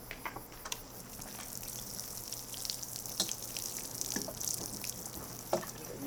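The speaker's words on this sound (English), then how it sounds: "Give them a bit of water." Water patters faintly over the soil around newly planted beet seedlings in a garden bed, a soft, scattered sprinkle of small drips and splashes.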